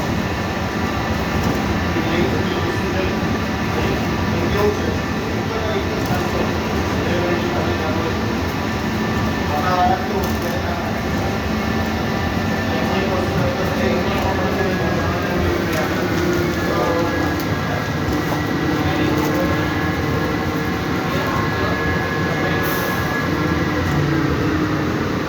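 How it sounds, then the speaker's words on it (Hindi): Steady rumble of a Dubai metro train on its track, with a continuous, loud mechanical roar and hum that carries through the whole stretch without a break. "आगे से ये ट्रेन आ रही है"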